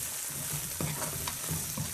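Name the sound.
fried fenugreek leaves stirred with chili powder and salt in pan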